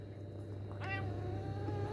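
A single clear cat meow, rising then falling and sounding close, cuts through a quiet room hum about a third of the way in, with no one speaking.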